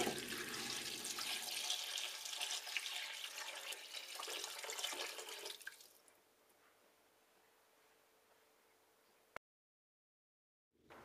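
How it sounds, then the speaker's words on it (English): A litre of water poured over carrots and potatoes in a soup pan, a loud splashing gush that thins to a quieter trickle and fades out, heard alone. "pour in the litre of water on top"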